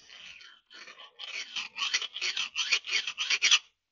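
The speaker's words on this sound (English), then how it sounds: "I'm going to try and file a flat on it." A hand file rasps a flat onto a small steel ball from a BSA non-return valve in a series of close, harsh strokes. The strokes start sparse, then grow louder and more regular, about two per second, with no talking.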